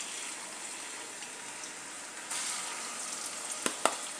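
Two finely chopped onions frying in hot oil for Kolhapur misal pav: a steady, faint hiss of sizzling that grows a little louder partway through, broken near the end by two brief clicks or knocks.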